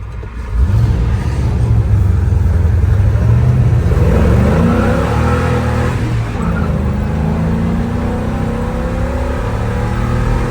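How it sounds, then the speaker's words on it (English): A 1959 Chevy truck fitted with a modern engine revs up hard and holds a loud, sustained roar near the rev limiter, buzzing steadily at close range. "That's what you call rev limiter."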